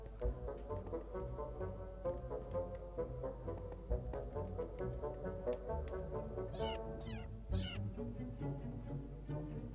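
A cat in Minecraft meows repeatedly over steady game music, the calls faint and intermittent, with a couple of sharper bursts near the end.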